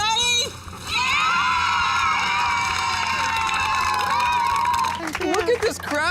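A crowd of volunteers cheering and shouting loudly, a dense chorus of high excited voices that holds steady for several seconds, then breaks into scattered shouts.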